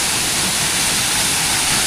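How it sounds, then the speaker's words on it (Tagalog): A small seasonal waterfall on a farm, fed by rain, rushes in a steady, loud, broadband wash of falling water, close by and with no voices. "silipin nga muna natin tong falls natin dito."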